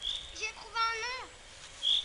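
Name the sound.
bird singing in a tree in a forest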